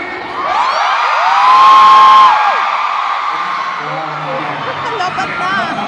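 A large stadium-style crowd screams and cheers loudly and continuously, a sustained roar of whoops and yells that swells in the middle and then holds steady.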